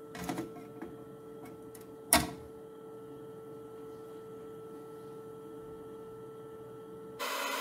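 CO2 laser machine cutting plywood pieces for a lamp, a quiet steady electronic hum with a few brief clicks and one sharp knock, then a louder whir of fans or motion starting near the end.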